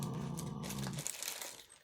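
Crinkly plastic packaging of thank-you stickers rustles up close for a couple of seconds, a dense crackle that thins toward the end.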